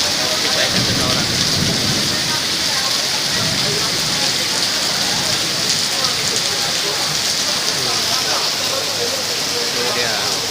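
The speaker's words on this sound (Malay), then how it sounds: "petang ni ribut keluar pergi berkain simpanan dah tersangkut hujan besar tadi, angin kencang ribut," Heavy rain pours down steadily during a sudden thunderstorm with strong wind in TTDI, a loud, dense hiss that stays constant throughout with low rumbling underneath.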